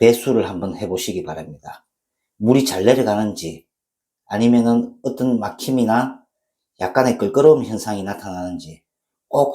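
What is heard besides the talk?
None of the usual background noises is heard.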